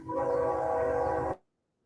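A train horn sound effect blares as one loud, sustained, chord-like blast for just over a second, then cuts off abruptly into silence.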